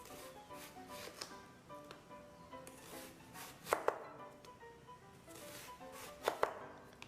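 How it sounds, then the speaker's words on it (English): An onion being roughly chopped with a knife on a board, sparse sharp chops with a couple of distinct knocks, fairly quiet and close, no talk. "So we'll chop this up very roughly"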